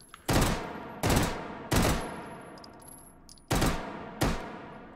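Beretta M93R pistol in the VR game Hot Dogs, Horseshoes and Hand Grenades firing single sharp shots, close and loud, five distinct reports with a pause between the third and fourth, each followed by a short decay.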